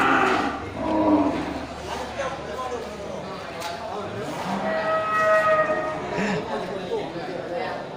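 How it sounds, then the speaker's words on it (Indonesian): Large cattle at a crowded market give deep moos amid steady crowd chatter and background bustle, with people talking nearby throughout. "di sal bagian timur dekat Pamagu juga terlihat ini sapi besar ya, super besar"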